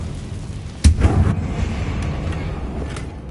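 Confringo blasting spell going off in the Hogwarts Legacy video game: a sudden close, loud boom at about the one-second mark, followed by a rumbling burst that fades into a low, steady background roar.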